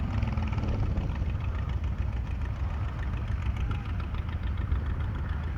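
A 1960 Jetstar Mini Mo tractor engine idles at an outdoor tractor show, a steady low rumbling chug held at a constant level with no voices over it.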